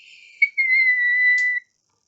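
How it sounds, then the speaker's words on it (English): A referee's whistle gives one clear, shrill blast lasting about a second after a brief short chirp, heard alone and close, then silence. "Madam Hooch blew her whistle."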